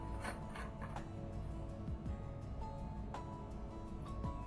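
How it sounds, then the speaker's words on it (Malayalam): A spoon stirs a homemade face pack of yogurt and rose water in a small bowl, making faint, soft scraping and rubbing sounds that repeat quietly throughout. "ഇത് നന്നായിട്ടൊന്ന് മിക്സ് ചെയ്യുക"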